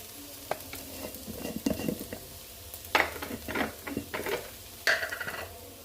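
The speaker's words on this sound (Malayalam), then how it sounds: "ഒന്ന് നന്നായിട്ടൊന്ന് ഇളക്കി കൊടുക്കുക" Chicken stew stirred in a pan with a spoon, scraping clatter in irregular bursts over a soft sizzle, growing louder toward the end, no talking.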